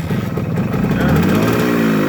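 A 1970 Bridgestone motorcycle engine running and revving up, a loud, close, continuous raspy drone that swells slightly in pitch and volume, with no voices.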